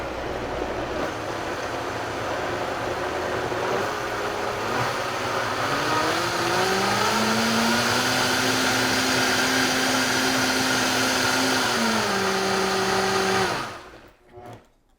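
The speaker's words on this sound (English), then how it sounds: "I thought this Vitamix was that strong, it would just cut it up no problem" A Vitamix blender loudly churns fruit with a steady motor roar whose pitch climbs and settles as the blades bite, holding strong for about thirteen seconds before winding down abruptly.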